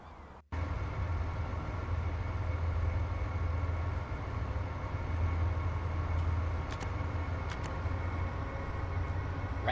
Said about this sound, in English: There's our little train full of 4 cars of pet food.